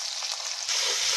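Onion, with garlic, sizzling as it fries in hot oil, a steady bright hiss that swells suddenly partway through the brief clip, with no voice.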